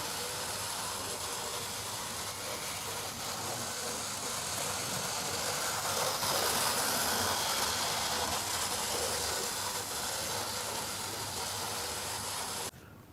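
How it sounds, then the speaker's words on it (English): A 1983 Hornby HST 125 model train set runs around its track, giving a steady whirring and hissing hum that holds at an even level and swells slightly in the middle before cutting down near the end. "the train set doesn't run that well the opposite way"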